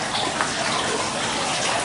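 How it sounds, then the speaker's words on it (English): Steady rushing water runs inside a garden grotto at the Rothschild garden in Nice, France, a continuous loud splashing wash with no voices over it. "You can hear the running water."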